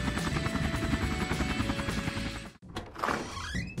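A helicopter heard as a loud, steady rotor chop and engine whine filling the scene, broken briefly by a thunk before the roar carries on.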